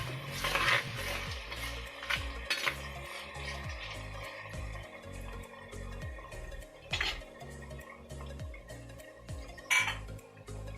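Crushed onion and crushed large garlic sautéing in a pan for a sail fish curry: steady sizzling with repeated scraping stirs of a spoon against the pan and a few sharp metallic clinks, close and alone.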